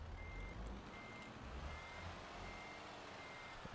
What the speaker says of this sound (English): Hit reverse.